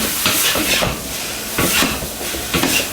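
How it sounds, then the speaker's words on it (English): Bean sprouts flash fry in a hot wok for chow mein. The loud, close sizzle swells in three bursts as the food is tossed and stirred, with light metallic scraping. "Finally, add the bean sprouts. Have a flash fry for about 10 to 20 seconds."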